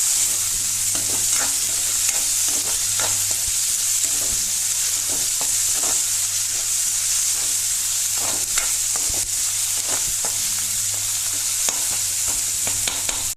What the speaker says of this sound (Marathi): आतां भितर न्ही टमॅटो घालप आनी हे 1 मिनटां फिरोवप अशें।